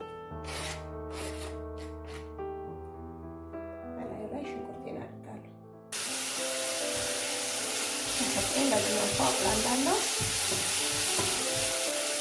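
Potatoes frying in oil in a pan for a ground beef and potato dish, a steady crackling sizzle with stirring scrapes rising louder midway, someone talking over the early part.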